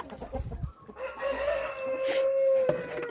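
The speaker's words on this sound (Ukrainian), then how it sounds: "Тікайте, кури." Backyard chickens on a small farm cluck and call near the microphone, a steady run of calls with a brief rooster-like crow, heard alone without talk.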